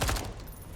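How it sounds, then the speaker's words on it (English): Gunfire in the video game Deathloop, a brief burst of rapid shots that opens loud and decays quickly within under a second. "Sounds of sweet, sweet gunfire."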